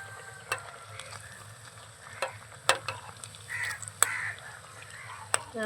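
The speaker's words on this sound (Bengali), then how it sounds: "উল্টে পাল্টে দুপাশ ভালোভাবে ভেজে নেব" Snacks deep-frying in oil and being turned over, a soft bubbling sizzle punctuated by sharp clinks and scrapes of a utensil against the pan, close and fairly quiet, with faint sounds in the background.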